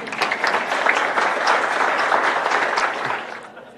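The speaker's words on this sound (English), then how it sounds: "Just give yourselves a round of applause." A chapel audience breaks into applause, a loud, steady roar of many hands clapping together that holds for about three seconds and then quickly fades out.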